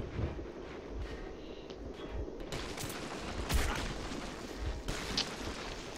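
Enemy gunfire in Metro 2033, steady crackling shots and heavier bursts echoing through a tunnel-like space, moderately loud with a sharper blast midway.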